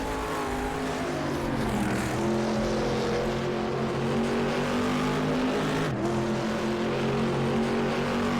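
A GT race car engine drones loudly and continuously through a downshift into third at the Linas-Montlhéry circuit in a racing game, the pitch dipping and shifting with a sharp break near the end, tyres faintly scrubbing underneath.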